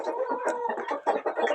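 Young roosters and chickens calling in a farmyard, a run of close, loud clucks and strained, cracking crow-like cries in quick irregular bursts, with no talking.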